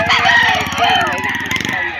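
A Golden Boy line gamefowl rooster, just over a year old, crows once at a rooster sale in Padre Garcia, Batangas. The call is a single loud, close, drawn-out crow that trails off near the end.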